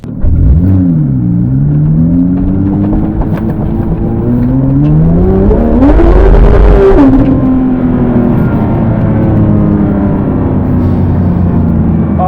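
A modded Porsche 991.2 GT3 RS engine drones loudly from inside the car while driving, its pitch rising and falling with throttle and gear changes, one sharper rev swelling midway.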